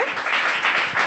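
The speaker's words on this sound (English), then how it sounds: "give a round of applause to everyone" Room of people at a retirement gathering giving a round of applause, loud continuous clapping from many hands, close and dense throughout the short burst.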